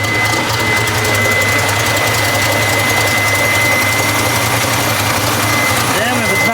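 A hot 2.3-liter race car engine runs steadily at idle, a dense continuous rumble with a faint high whine, close and loud throughout with no pauses.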